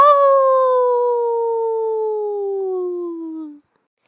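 A single long, wavering howl from a human voice imitating a ghost, steady and loud, sliding slowly downward in pitch before cutting off.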